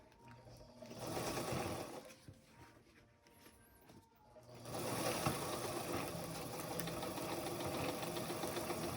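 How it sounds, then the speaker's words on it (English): A sewing machine backstitches to reinforce the seam of a fabric respirator mask, running in two bursts: a short stretch of steady mechanical whirring, a brief pause, then a longer, louder continuous run close by with no talking. "See what I'm doing? I'm back stitching."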